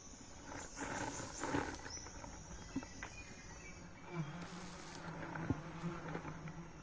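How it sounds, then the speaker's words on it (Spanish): Wasp nest buzzing in Metal Gear Solid 3: Snake Eater, a faint continuous insect drone with scattered higher whines over quiet jungle ambience, no talking. "Hay un panal de abejas."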